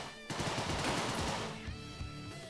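Rapid automatic gunfire in the game Deadbolt: a dense, loud burst of shots for about a second and a half, then a sparser tail of fire, with no voices.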